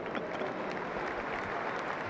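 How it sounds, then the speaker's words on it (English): A football stadium crowd at Chelsea against Real Zaragoza drones a long, low chant of Robert Huth's name that sounds like booing, a dense, steady, distant roar of many voices. "That wasn't booing you heard there, that was the call for Robert Huth"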